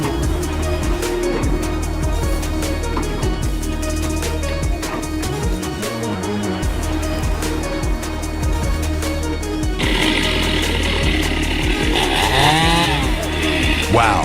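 A big chainsaw cuts through a heavy log, engine whining continuously and loudly up close, pitch rising and falling as the chain bites into the wood.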